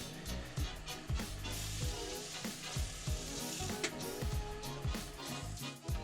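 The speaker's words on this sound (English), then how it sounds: "I'm going to slow down my lathe, and I'm going to go back to my sandpaper" Sandpaper of 150 and 220 grit rubs against the inside of a wooden plate spinning on a slowed lathe, giving a steady hiss with rhythmic scraping strokes throughout.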